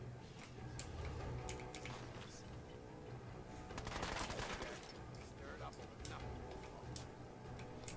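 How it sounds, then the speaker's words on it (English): Video game gunfire in Fallout rattles in rapid, uneven bursts of sharp cracks, fairly quiet and distant, with a denser volley midway and ticking shots scattered before and after. "somebody is shooting at poor Codsworth"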